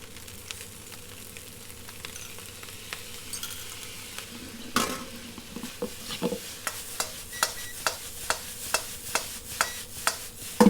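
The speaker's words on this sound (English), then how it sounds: "So the wok has to be nice and hot for the rice to move." Egg-free fried rice stir-fried in a very hot wok, a steady sizzle under rhythmic, evenly spaced scrapes and clinks of a metal spatula on the pan, growing more regular toward the end, with no one talking.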